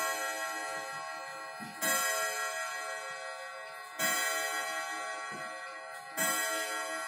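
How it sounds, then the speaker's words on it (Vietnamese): A clock strikes noon with slow, ringing chimes about two seconds apart, three heard here, each fading into a soft, steady ticking in a quiet room. "đổ đúng 12 tiếng chuông"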